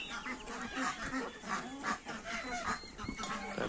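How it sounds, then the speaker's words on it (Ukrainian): Large farmyard geese honk repeatedly as they come out into the yard, a busy overlapping chorus of nasal calls, fairly close and steady throughout. "Так, гуси наші почали виходити"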